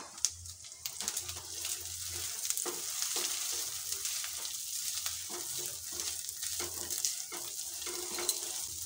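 Masala with a spoonful each of cumin powder and coriander powder fries in oil for doi katla, a continuous close sizzle and crackle with occasional stirring scrapes, steady throughout.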